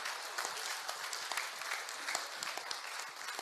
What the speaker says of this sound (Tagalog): Isang palakpak nga para kay Senator Larry Gadon